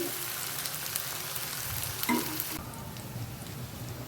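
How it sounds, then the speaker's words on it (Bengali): Onions and garlic fry in oil in a pan, turning light golden, with a continuous dense sizzle that eases slightly partway through; close, with no talking. "এগুলোকে আমি হালকা গোল্ডেন কালার করে ভেজে নিচ্ছি"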